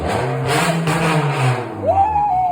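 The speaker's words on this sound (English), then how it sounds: "That shit sound like a real Honda now." A Honda Civic with a welded straight-piped exhaust idles with a low drone, then revs upward near the end in a rising, raspy tone, close and fairly loud.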